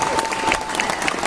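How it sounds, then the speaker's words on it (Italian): A short burst of loud, dense applause from a large audience at a concert in Lenola, Italy, continuous clapping without any voices. "Continuiamo questo applauso per il grande"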